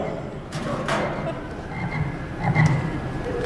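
A person under stage hypnosis at a fundraiser show imitates a bullfrog croaking, giving low throaty croaks over a noisy crowd.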